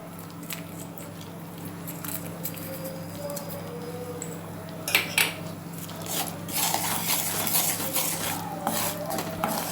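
A jaggery mixture with cardamom powder being stirred in a pan gives close, scraping spoon-on-metal sounds and sticky squishes, with the stirring growing busier and louder toward the end.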